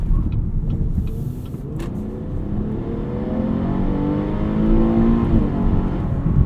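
A 2018 Buick Regal Sportback GS with an automatic gearbox and two-stage accelerator pedal accelerates hard with a kickdown downshift, its engine climbing steadily in pitch and loudness inside the cabin, with no talk.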